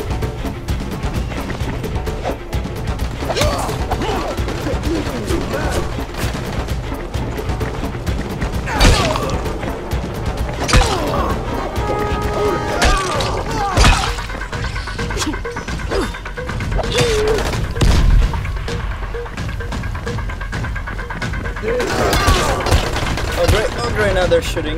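Gunfire and crashing impacts fill a chaotic scene in the video game Dying Light: The Following, with repeated sharp shots and mechanical clatter over a constant busy game soundtrack.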